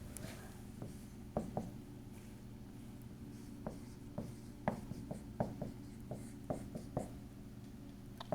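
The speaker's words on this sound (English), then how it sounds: "I want to write these equations down." Chalk or marker writing out equations on a classroom board during a physics lecture on inductance, a series of short tapping and scraping strokes at irregular intervals over steady room hum, fairly close with no talking.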